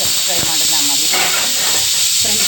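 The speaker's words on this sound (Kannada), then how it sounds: "ಇದು ಲಾಸ್ಟ್ ವಿಷಲ್." Pressure cooker on a kitchen stove letting off its final whistle while avarebele pulao cooks, a loud steady steam hiss that fills the whole stretch, with faint voices and clatter underneath.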